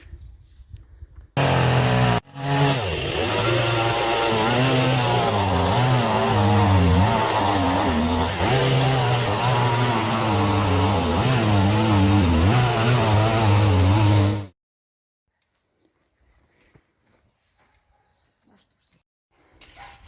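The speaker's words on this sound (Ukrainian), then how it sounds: "тепер беремо інструмент, бензопилку і відпилюємо" A chainsaw starts, idles briefly, then revs and cuts through a tree root steadily for about twelve seconds, loud and close, its pitch rising and dipping under load before stopping abruptly.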